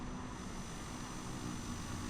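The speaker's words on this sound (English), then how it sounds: "You can hear planes out there." An aircraft passes in Microsoft Flight Simulator, heard as a steady, faint engine drone that holds even throughout with no talk.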